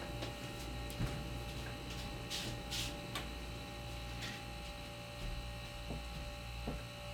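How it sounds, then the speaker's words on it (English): An airbrush compressor running indoors as a low, steady electric hum with faint ticking clicks scattered over it, quiet and continuous with no talking. "That other thing is the compressor."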